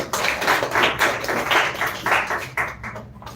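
Students clap after a school English speech competition, a steady patter of many hands filling the room for a few seconds before it thins out and fades near the end.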